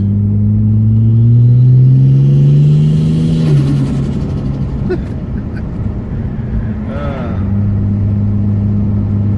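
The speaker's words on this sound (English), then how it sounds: "The ANTZ Performance Turboside intake definitely makes some good noises." A Ford BA XT Falcon turbo with an ANTZ Performance Turboside intake revs up loud and close, holds, then drops off with a whoosh before a second, shorter blip of the throttle.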